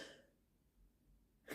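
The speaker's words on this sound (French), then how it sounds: "J'ai éternué" A single short sneeze bursts out at the end after a quiet breath, close to the mic and alone.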